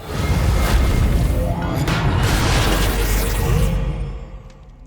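A Reparo repair spell cast on a suit of armor in a video game gives a loud magical whoosh with a booming, shimmering swell, then fades out over the last second.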